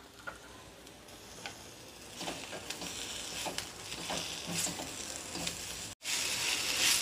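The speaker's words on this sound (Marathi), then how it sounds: "कांदा, खोबरं, टोमॅटो सगळं व्यवस्थित परतून घेतलेले" Onion, coconut, tomato, ginger and garlic are sautéed in a pan, giving a quiet sizzle with scattered ticks and patters of stirring and a brief dropout near the end.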